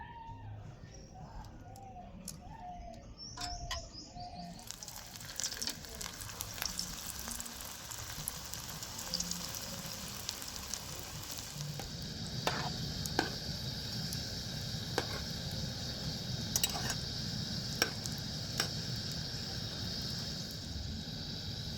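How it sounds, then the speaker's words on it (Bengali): Bread-based sweets fry in hot oil with a continuous crackling sizzle, dotted with sharp pops and small clinks, growing denser and louder partway through as more pieces go in. "এইভাবে করে আমি বাকি মিষ্টিগুলো ভেজে নেব"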